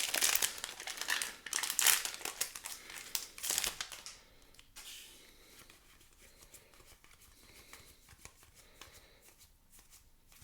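The foil wrapper of a Magic: The Gathering Commander Legends booster pack crinkles loudly and tears open for several seconds up close, then fades to quiet, light rustling of cards.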